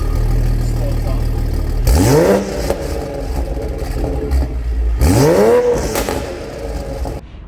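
A Toyota Supra with its valvetronic exhaust in sport-off mode revs twice, each time a rising engine sweep over a low idle rumble, with a gap in between and the idle settling back afterward.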